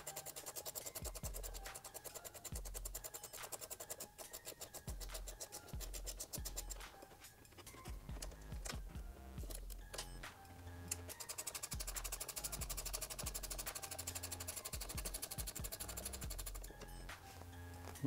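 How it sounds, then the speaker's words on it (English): A ratcheting box wrench loosens a 10 mm hex bolt on a 2019+ Kawasaki ZX6R motorcycle, making faint, rapid, scratchy clicks that run on and off throughout. "I'll be using a ratcheting box wrench."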